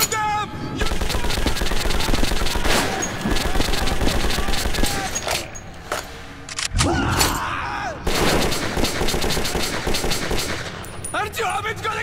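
Rapid automatic gunfire and bursts of shooting in the video game Metro, loud and sustained with brief lulls, mixed with frantic in-game sounds and chaos.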